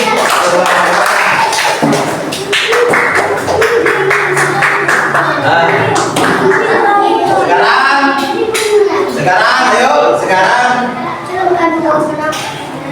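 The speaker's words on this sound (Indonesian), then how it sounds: "Tepuk tangan semua." Children in a primary school classroom clap in scattered, uneven bursts through the first half, with speech running over and after the clapping.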